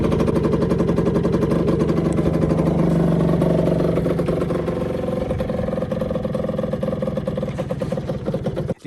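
A 2021 Rieju RS3 motorcycle engine runs steadily up close after a choke-assisted start, a loud continuous buzzing idle with a slight dip in pitch midway, ending in a brief knock.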